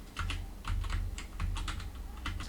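Steady typing on a computer keyboard, a run of quick close key presses in an uneven rhythm, with no talking.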